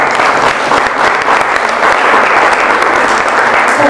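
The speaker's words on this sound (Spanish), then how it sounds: "Le damos un aplauso." Loud, steady audience applause at a Mexican muscular dystrophy society medical conference after a speaker is introduced; dense clapping from many hands continues evenly for a few seconds without talk.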